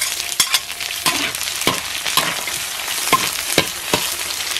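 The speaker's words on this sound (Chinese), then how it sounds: "油热上锅煎个爆香" Aromatics sizzle and fry in hot oil in a pot with a steady, close crackle, and sharp stirring scrapes and clicks recur every half second or so.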